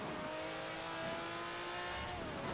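KTM X-Bow race car in Forza Horizon 4, its engine holding a steady high whine that rises and falls slightly, loud and close with no talk.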